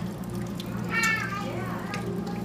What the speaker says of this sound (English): We made a fountain!